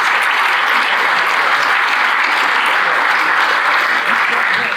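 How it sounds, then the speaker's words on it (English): A roomful of people at a Rotary meeting applauds a university guest speaker, a loud, dense and unbroken burst of clapping that holds evenly from start to finish. "Another round of applause for Dr. Bradley."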